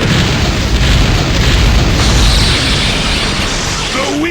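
The Raikage's Liger Bomb explosion in Naruto Shippuden: Ultimate Ninja Impact, a loud, dense roaring blast that fills the whole stretch as one continuous booming wash.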